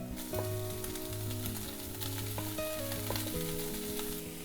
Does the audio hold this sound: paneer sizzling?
yes